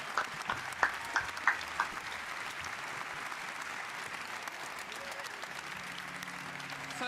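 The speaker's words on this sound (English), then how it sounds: "I'll give him a round of applause" A press-conference audience applauds steadily throughout, a continuous wash of clapping with a few sharper claps and whoops near the start, moderately loud and fairly distant.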